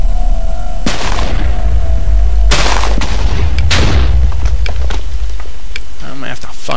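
Several loud bomb blasts in a Minecraft Bomberman game boom close by, three sharp explosions spaced a second or two apart, each with a deep rumbling tail, followed by smaller pops and crackles.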